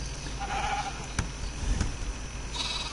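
Sheep bleating in the video game Minecraft, a couple of short bleats over a steady background of game music or ambience, with no talking.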